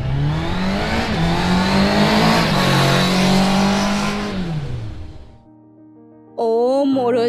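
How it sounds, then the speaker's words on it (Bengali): A cartoon motorbike engine effect revs loudly and steadily, its droning pitch gliding up and down for about five seconds before fading out. A brief voice then cuts in at the end. "সেই সময় হঠাৎই একটা বাইকের আওয়াজ ভেসে আসতে শোনা গেল"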